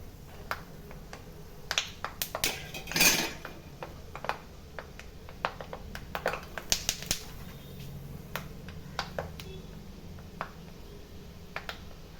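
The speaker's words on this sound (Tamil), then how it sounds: "நல்லா பொரியுது பாருங்க." Kara boondi, a fried gram-flour snack, bubbles in hot oil with a steady crackle of small sharp pops at close range, plus a brief louder hiss and scrape partway through; no speech.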